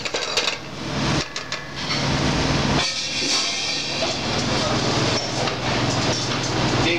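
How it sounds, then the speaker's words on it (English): Rice toasting in oil with onions and garlic in a pan for a BC spot prawn risotto, a loud, continuous hissing sizzle close by with a few brief dips, voice faintly mixed in. "Being careful not to burn your rice. Lightly toast it, get it nice and coated with the oil."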